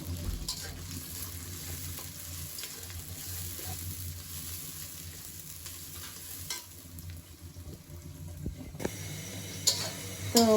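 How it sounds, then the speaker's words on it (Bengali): Ginger and onion frying in a pan for a beef curry, a steady close sizzle with scattered stirring scrapes throughout and a few louder clatters near the end. "পেঁয়াজটা হচ্ছে আদা ভাজা হয়ে গেছে আর এটার মধ্যে আমি লবণ দিয়ে দিয়েছি"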